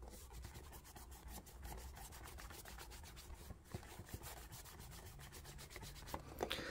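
Close, quiet rubbing strokes repeat in a steady back-and-forth rhythm, a soft scrubbing of cloth wiping dirt off a cardboard Funko Pop box.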